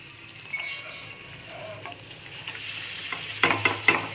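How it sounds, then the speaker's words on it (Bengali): Luchi puffing in hot oil give a soft, steady sizzle, with a few sharper crackles and spatters near the end and no voices. "এই যে ঘুগনি রেডি আর এই যে তেলে লুচিও পড়ে গেছে।"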